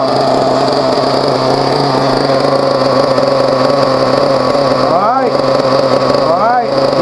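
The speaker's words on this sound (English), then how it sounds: "On the fourth tank, we'll give it some revs, minor revs, not too high, minor revs on the fourth tank." Team Associated RC nitro engine idling steadily on its fourth break-in tank, a buzzing drone with two short throttle blips rising near the end, close and loud.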